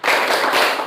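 An eighth-grade class clapping together in rhythm as a classroom cheer, a dense burst of overlapping hand claps, loud and close, with no talking.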